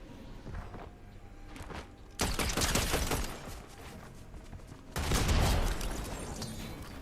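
Gunfire in a competitive shooter video game, two loud close bursts of rapid shots each lasting about two seconds, separated by quieter scuffling and movement sounds.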